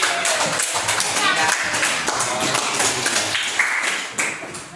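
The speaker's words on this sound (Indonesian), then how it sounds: "Tepuk tangan untuk Kak Beril dari" Students in a classroom clap together for a classmate, a dense sustained patter of many hands with brief voices mixed in, fading toward the close.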